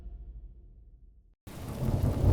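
Low rolling thunder rumbles and fades, then after a short silence a loud, dense downpour of heavy rain hisses in and builds, with no voices.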